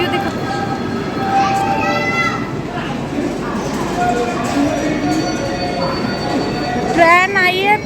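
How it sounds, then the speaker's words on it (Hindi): Train pulling into platform number 2 at a railway station in India, with a steady rolling rumble, squealing wheels and brakes near the end, and people talking over it. "ट्रेन आई है, प्लेटफॉर्म नंबर 2 पे आई है।"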